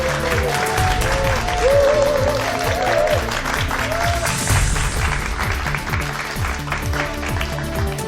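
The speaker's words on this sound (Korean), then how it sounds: "여러분 큰 박수 부탁드립니다." A studio audience at a televised lecture show applauds as a guest lecturer on democracy is welcomed, steady clapping over lively background music, with a voice briefly heard over it.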